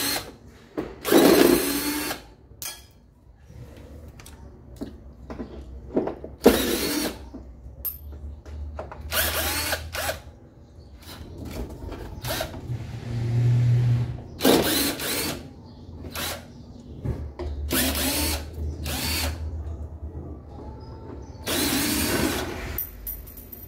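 A power drill whirs in repeated short bursts, loud and close, loosening screws on a car's mud flap, with quiet pauses and small handling clicks between runs.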